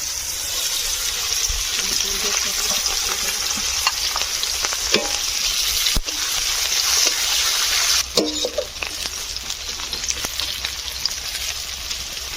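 Onions and green chilies fry in hot oil in a wok, cooked the village way for a fish curry. A loud, steady sizzle runs throughout with occasional stirring clatter and a sharp burst of crackle partway through.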